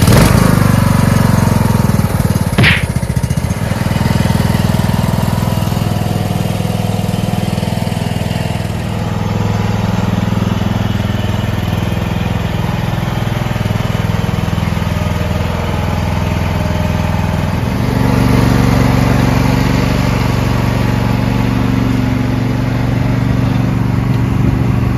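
A lawn tractor's small engine, freshly fitted with a new AGM battery, starts and settles into a steady, loud, continuous drone that runs unbroken, with a slight shift in tone partway through and no voices.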